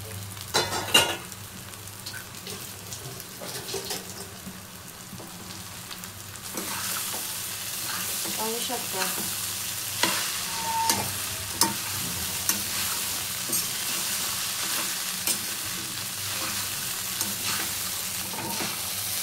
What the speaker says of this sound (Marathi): आपले 3 ते 4 मिनिटे कांदा पोहे चांगले परतून झाले आहेत